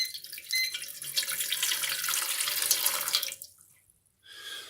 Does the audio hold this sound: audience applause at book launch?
no